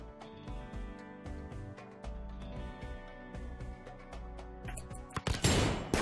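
Rapid bursts of gunfire erupt near the end of a stretch of background music in the colony game Rimworld, loud cracks clustered together.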